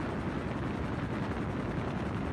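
Helicopter flying over a funeral gathering in Iran, heard as a constant dense roar of rotor and engine noise that stays loud and unchanging throughout.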